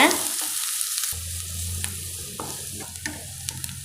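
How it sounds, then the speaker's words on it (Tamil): Mustard seeds, onion and curry leaves drop into hot oil for radish poriyal, with a sudden sizzle after about a second that settles into steady frying punctuated by light spatula clicks and stirring. "இப்போ நாம் கடுகு சேர்த்துடலாம் நம்ம வெங்காயம் சேர்த்துக்கலாங்க கூடவே நாம் கருவேப்பிலை சேர்த்துடலாம் எல்லாத்தையும் நல்லா வதக்கிக்கோங்க"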